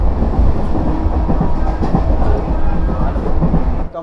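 A long-distance train bound for Namkhana station runs on its rails with a heavy, continuous low rumble and a faint rhythmic clatter from the wheels. It is loud and close, as heard from inside a carriage.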